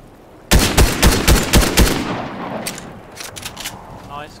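Automatic gunfire in a Fortnite match, a rapid burst of about six loud close shots followed by a decaying echo and a few more distant scattered shots.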